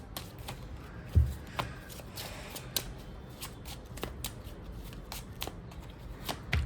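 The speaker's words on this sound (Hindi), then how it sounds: "मैं अभी शफ़ल कर रही हूँ" Tarot cards being shuffled by hand in a quiet room, a steady run of soft riffling flicks and snaps with a few louder taps, close and alone without talk.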